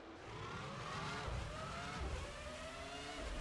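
A Formula One race car screams around Spa-Francorchamps on an out lap in the F1 2005 video game, its engine droning loud and steady, with gear-shift changes and a continuous roar close at hand.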